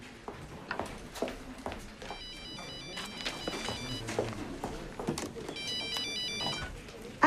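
A telephone rings with a repeated electronic ringtone, two bursts of warbling tones over a background of shuffling footsteps and faint room noise, in a household scene.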